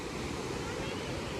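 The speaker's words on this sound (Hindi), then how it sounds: "और ये देखें पानी का शोर" Rushing river water roars beneath a swaying footbridge on the Fairy Meadows trek, a steady, dense broadband wash that fills the whole moment without a break.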